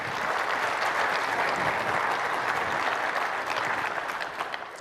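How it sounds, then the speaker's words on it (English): A large keynote audience gives a steady, dense round of applause throughout, tapering off slightly at the end. "Give yourself a big round of applause."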